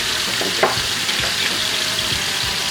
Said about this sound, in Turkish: Kavurduğumuz ıspanağın içine bir adet domates soyulmuş